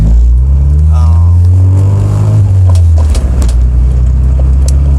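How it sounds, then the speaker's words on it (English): A loud, gutted wagon with an F20B stroker engine revs and roars up close, its deep rumble dropping back to a rough idle. "This car is really loud"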